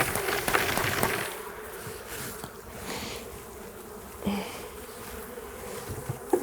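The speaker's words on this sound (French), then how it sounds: "je vais secouer les abeilles dans le bac" Honeybees shaken from a hive frame into a tray in front of the hive give off a dense, steady buzzing swarm drone, loud and close, with a few soft thumps and knocks as the frame is shaken.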